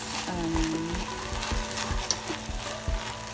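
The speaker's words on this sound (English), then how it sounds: "I'll first add in the peas, then I'll give it a mix." Peas hit a hot pan of vegetable rice pilaf and are stirred in. A dense, continuous sizzle of frying runs throughout, with the soft scrapes and knocks of mixing close by.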